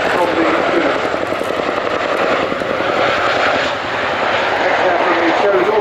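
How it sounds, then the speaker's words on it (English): An RAF CH-47 HC2 Chinook performs a solo display at an airshow, its twin rotors and engines making a loud, steady roar that dips briefly and then swells again. "put your hands together for the 2012 Chinook display team"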